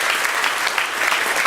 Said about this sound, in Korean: 다시 한번 감사의 격려의 박수 한번 보내주시기 바랍니다